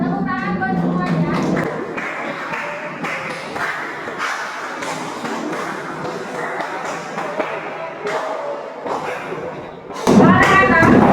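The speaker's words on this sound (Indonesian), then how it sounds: "Tepuk tangan buat semuanya." A classroom group claps for the class, a scattered run of hand claps and thuds in the middle, with a voice speaking before and after.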